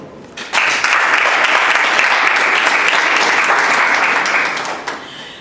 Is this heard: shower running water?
no